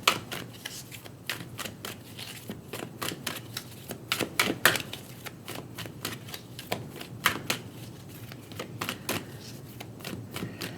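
Psychic Tarot Oracle cards shuffled by hand in a quiet room, a long run of crisp riffling snaps and soft slides in an uneven rhythm, close and moderately loud with no talking.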